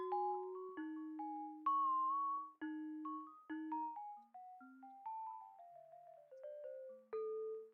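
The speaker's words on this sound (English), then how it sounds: "It's legit like some chimes." Soft, bell-like synth plucks from an Omnisphere preset ring out one after another in a slow descending melody, each chime-like note decaying cleanly, quiet and isolated with no talking.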